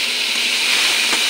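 Steady, loud sizzling hiss of fried shing fish and potatoes going into hot spice paste in a pan, continuous and close with no talk.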